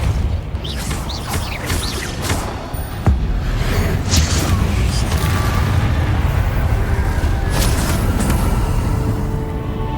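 Fiery blast spell cast in the video game Hogwarts Legacy, heard as a sudden booming burst around three seconds in, followed by a dense rumbling wash of effects that continues steadily to the end.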